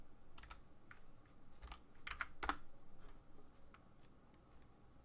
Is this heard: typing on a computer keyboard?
yes